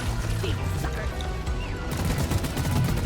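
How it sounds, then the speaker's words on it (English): Rapid bursts of gunfire from a patrol robot enemy in the shooter game Scout crackle over a dense, noisy battle backdrop, with a voice speaking underneath. "it was the robot shooting me"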